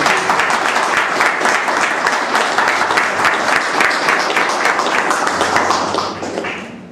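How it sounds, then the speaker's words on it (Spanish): Loud, sustained applause from an audience at a Spanish-language cultural evening, dense clapping filling the whole stretch and thinning slightly at the very end. "reitero una vez más fuertes aplausos para"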